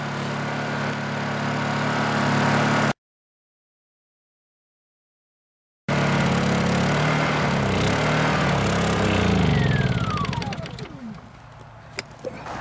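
A Honda EU2000i generator runs loud and steady after its fuel is shut off, breaks off in a gap of silence, returns, then winds down with a falling pitch and sputters near the end.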